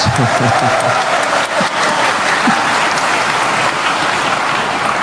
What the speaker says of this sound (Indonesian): Adapun tepuk tangan yang kurang semangat saya maklum karena lapar semuanya